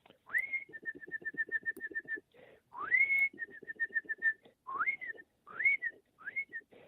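A person whistles an imitation of a male and female cardinal pair's songs: rising slurred notes followed by quick rapid-fire chirps, repeated several times with short pauses.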